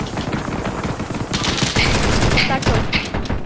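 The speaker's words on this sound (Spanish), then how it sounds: "Está muerto, estás disparando a alguien" Rapid automatic gunfire in the video game Call of Duty: Warzone, a loud dense volley of overlapping shots and bursts continuing without pause for the whole stretch.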